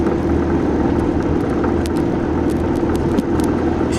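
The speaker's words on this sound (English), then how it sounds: "I bought this truck last year and I have never had it 4-wheel drive until today" Pickup truck in four-wheel drive pushing through heavy slush during a March snowstorm, heard from inside as a loud, continuous engine and road roar with a constant low drone and occasional hissing bursts of slush spray.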